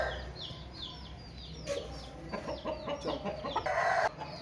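Aseel rooster clucking at a Multan poultry market, a run of short repeated clucks building louder toward the end amid a steady crowd of market fowl noise.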